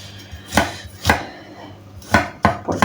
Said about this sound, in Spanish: Ahora lo picamos un poco más